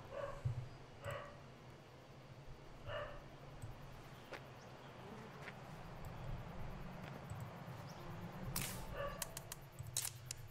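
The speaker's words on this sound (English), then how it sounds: "My dog is barking, so I'm hoping you can't hear him, but he is a very loud bark" A loud dog barks from behind a closed door, its muffled yaps and bow-wows arriving in scattered short bursts over a quiet room, faint and distant rather than close.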